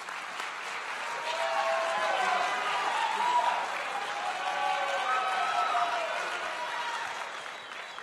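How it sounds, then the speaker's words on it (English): Sustained applause from an audience after a startup pitch at a university venture competition, steady clapping over about eight seconds with voices cheering and talking through it. "I got a standing round of applause there from his team there"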